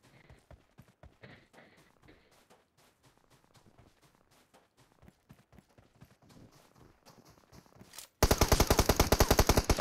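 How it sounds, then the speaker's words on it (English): Rapid gunfire from players shooting in a multiplayer video game bursts in loud and dense near the end, after a stretch of quieter clicks, footsteps and game noise. "people shooting behind"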